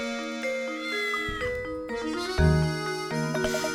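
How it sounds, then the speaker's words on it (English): A cat meows a few times in a Professor Layton video game, its cries threaded through a bright, busy musical score with plucked and sustained tones that stays prominent throughout, no speech present. "What's this cat doing here?"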